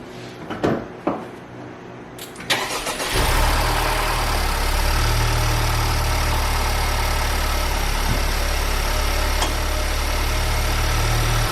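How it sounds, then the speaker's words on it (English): A few clunks and a door shutting, then a Honda Civic Type R (FK8) engine with a high-volume intake starts and settles into a steady, loud, rumbling idle close by. "we're gonna go ahead and start the car up, let it warm up"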